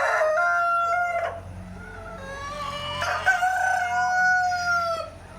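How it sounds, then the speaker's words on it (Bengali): A rooster crows loudly and close by, its long harmonic call repeating, with hens clucking in the background on a farm of year-old multicoloured Tiger chicken breeding stock. "এই হচ্ছে আমার টাইগার মুরগির প্যারেন্টসের খামার"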